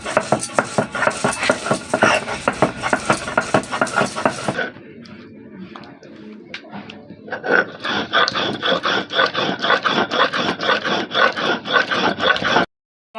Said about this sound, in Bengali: এবার আমি মশলাটাকে ভালো করে বেটে নেব।